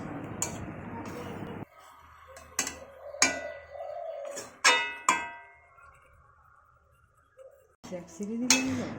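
A spatula scrapes and knocks around a metal kadai filled with chicken pieces being sautéed, giving sharp, irregular clanks spaced by short pauses, close to the microphone in a quiet home kitchen.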